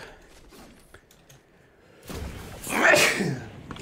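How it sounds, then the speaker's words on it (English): A single loud sneeze bursts out near the end of a quiet moment during a live-streamed gaming session, sharp and close after a few seconds of low background sound. "Sneeze. That was loud."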